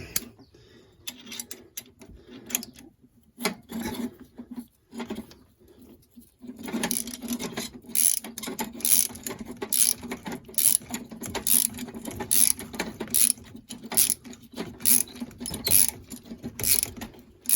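A socket ratchet tightens a bolt on a VW T4 Transporter TDI engine, its rapid clicking pawl sounding in a steady series of short bursts after quieter handling and tool clinks, close and clear with no talking.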